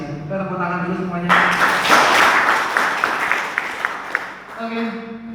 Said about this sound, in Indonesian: Kita tepuk tangan dulu semuanya.